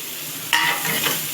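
Eggs are stirred into a frying tomato masala, a brief close sizzle with a sudden scraping stir partway through, no talk.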